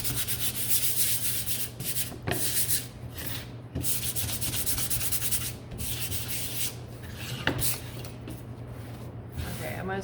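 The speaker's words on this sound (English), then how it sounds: "I'm gonna sand a little bit more. I really wanna wear down my edges" Hand sanding along the edges of a wooden snowman craft, a steady rasping rub repeated in strokes with short pauses, close and fairly loud over a low constant hum.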